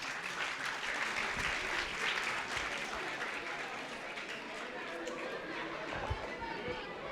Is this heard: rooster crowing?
no